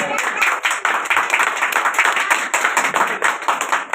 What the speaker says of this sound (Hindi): स्वागत का समय जोरदार तालियों से स्वागत करेंगे।